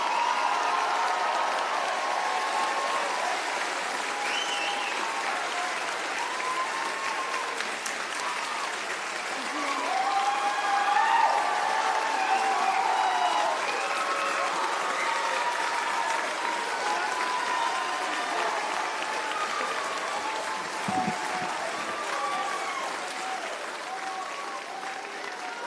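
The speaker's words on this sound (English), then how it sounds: "One more round of applause for the class of 2024." Sustained applause from a large audience at a community college nursing pinning ceremony for the class of 2024, steady clapping throughout with light cheering swelling in the middle.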